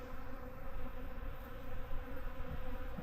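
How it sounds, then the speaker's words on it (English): Hundreds of bees hum in a backyard flower garden behind a house on a cold early-spring day, a steady, dense buzz holding evenly throughout with no voices. "there are hundreds and hundreds"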